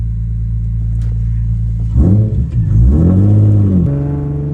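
A manual-transmission car fitted with a modified cold air intake idles loudly, then revs twice in quick succession, the engine note climbing and falling close by with no talking.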